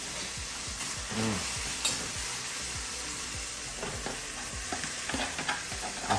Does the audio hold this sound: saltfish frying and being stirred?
yes